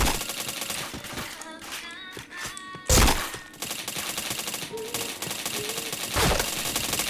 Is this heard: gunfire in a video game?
yes